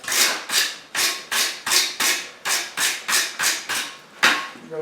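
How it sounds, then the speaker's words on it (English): Wire brush scrubbing forged metal on a Claydon knot, about a dozen even back-and-forth strokes in a steady rhythm, close and fairly loud with no talk. "Now we're going to wire brush that."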